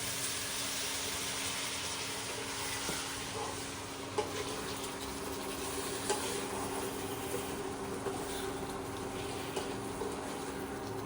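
Masala with green chilli sizzles steadily in a pan while being stirred with a little added water for a dal chicken, a constant close hiss with small scraping ticks and no talk.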